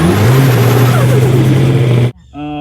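A Can-Am Maverick side-by-side engine runs loud and close with a steady droning note, then cuts off abruptly near the end, leaving a quieter, lower hum.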